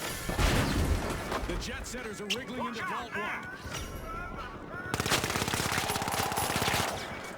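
Rapid automatic gunfire bursts in the shooter video game The Finals, dense rattling volleys near the end, with a voice talking over the first half.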